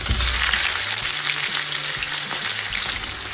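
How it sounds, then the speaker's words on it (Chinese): Washed pork trotters fry in oil and melted rock sugar in a wok, giving a loud, steady sizzle and crackle with faint stirring scrapes and no talk. "将冰糖化开以后，倒入刚刚洗好的猪蹄"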